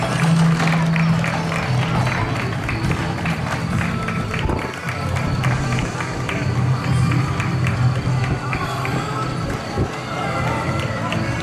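A crowd at a festival celebrating Terceira island in the Azores keeps up a round of applause, a dense, steady patter of clapping throughout, mixed with voices and some nearby talk.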